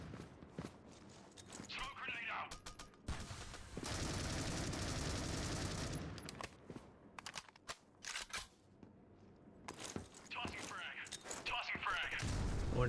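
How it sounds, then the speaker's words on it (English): A grenade blast in a video game played at a pro league grand final roars as a sustained, loud burst amid scattered gunfire and mechanical clicks, while commentators talk over the action. "That grenade doing a fair bit of damage."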